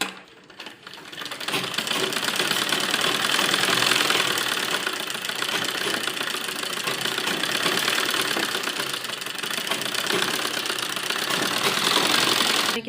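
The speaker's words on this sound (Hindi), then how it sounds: "यहाँ पर एक दबी हुई सिलाई लगाएंगे" A sewing machine stitching a heavy-work fancy suit runs continuously with a steady, dense mechanical whir that stays loud and close throughout, with no talking.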